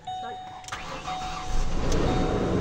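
A Ford Explorer with a replaced engine and freshly set timing cranks once and fires straight up, settling into a steady idle, heard close by with someone talking excitedly over it.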